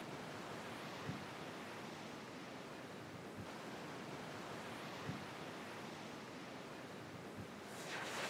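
Wastewater aeration blowers pump air into a treatment basin, giving a steady broadband rushing hiss like surf or wind, faint and constant with a few soft knocks and no talk.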